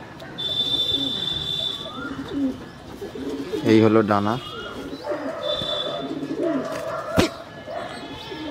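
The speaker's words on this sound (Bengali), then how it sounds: "এই হলো পুরো পায়রাটা" Domestic pigeons coo in soft, throaty bursts close by, with a louder rolling coo in the middle, while someone talks over them and other birds chirp faintly in the background.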